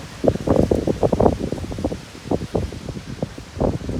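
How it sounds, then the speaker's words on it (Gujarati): Strong storm wind gusts across open farmland in Gujarat, rushing and rustling through foliage in repeated surges, close and fairly loud with no talk. "એવો પવન આવે."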